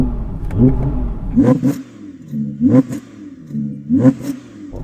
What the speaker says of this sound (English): let's rev up the engines